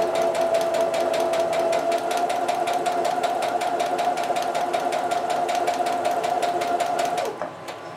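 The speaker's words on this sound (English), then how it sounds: "the machine will start going forward. As you press harder, the machine will speed up." Sewing machine stitching fabric, running steadily with a fast, even rhythmic clatter and hum for several seconds before stopping abruptly; close and loud, no voices.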